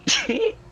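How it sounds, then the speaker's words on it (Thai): A single short sneeze, close and fairly loud, with a sharp burst followed by a brief voiced tail, heard alone amid an online game session. "เดี๋ยวเดี๋ยวเดี๋ยวนี่จามเหรอ"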